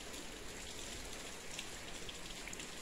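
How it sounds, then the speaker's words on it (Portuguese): Heavy rain pours down in the interior of Pernambuco, Brazil, a dense, continuous hiss of drops striking surfaces, steady and unbroken from start to finish with no voices. "Tá chovendo muito."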